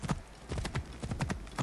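Horse hooves clip-clop in a quick, steady trot in Assassin's Creed Origins, a dozen or so moderately loud hoofbeats in even rhythm with faint ambient noise behind.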